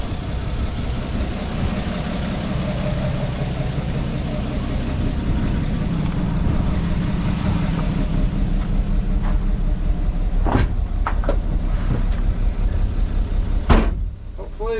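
A 1950 Chevy Deluxe, driven for the first time in 54 years, runs with a steady low engine rumble while moving. A few sharp clicks and knocks stand out near the end.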